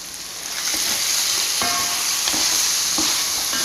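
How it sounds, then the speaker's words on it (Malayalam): Chicken roast curry with chicken masala being stirred in a pan: a steady, close sizzle with a spoon scraping and clicking against the pan every second or so. "നന്നായിട്ടൊന്ന് ഇളക്കി യോജിപ്പിച്ചിട്ട് നമുക്ക് കറി നിർത്താം"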